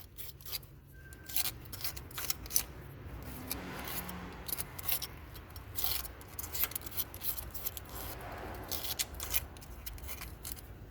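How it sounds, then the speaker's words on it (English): Razor blade scraping around a hole on a corroded BMW 325i engine, with quiet, irregular short scratches and rasps repeating close up over a low background hum. "take the razor blade and gently scrape around the hole."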